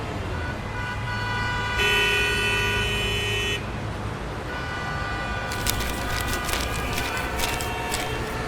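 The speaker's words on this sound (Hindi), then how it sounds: "ट्रैफिक जाम है" Traffic jam on Strand Road with vehicles honking: a long steady horn blast sounds over the rumble of idling engines, followed by a cluster of shorter, overlapping honks, all fairly loud and close.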